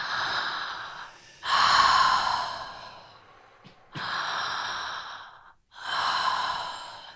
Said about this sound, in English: So we're breathing in and out through the mouth.